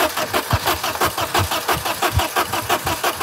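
An old Volvo engine that has not run in ten years, its starter cranking in a steady rhythmic churn of repeated chugs, close and loud, without catching into a clean idle.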